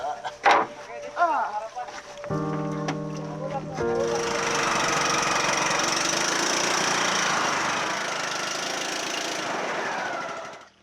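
A boat engine on a river trip in Northern Samar starts after some early bumps and tonal noises, then runs as a loud, steady drone for several seconds before cutting off at the end.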